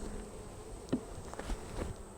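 Bees buzz steadily around an open hive during an inspection of a weak colony, a close, continuous insect drone with a few faint knocks and no talking.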